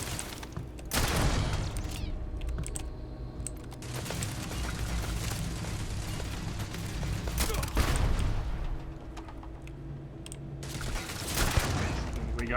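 Bursts of turret gunfire in Starfield, heavy booming volleys and rapid shots crackling loudly over several seconds with brief lulls between barrages.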